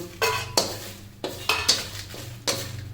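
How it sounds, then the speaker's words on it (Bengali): A utensil clanks sharply against a pan about five times at irregular intervals, over a low, steady sizzle of chillies frying for jujube pickle. "তো লঙ্কাগুলো একটু নাড়াচাড়া করি"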